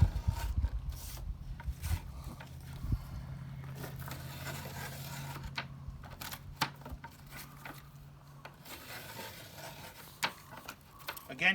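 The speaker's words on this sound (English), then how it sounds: "I have a utility knife. So what I'm going to do is I'm just going to finish these cuts here." Utility knife scoring and cutting strips on a scrap piece of plywood: close, repeated scraping and rasping strokes with small knocks and taps, fairly quiet and without talk.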